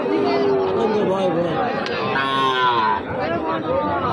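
At a cattle market selling young Gir, Sahiwal and local bull calves, a cow lets out long, loud lowing moos close by, with a busy murmur of people's voices behind it.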